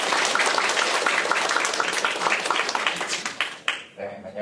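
A conference audience gives dense, sustained applause to welcome a presenter, and the clapping thins out and fades near the end.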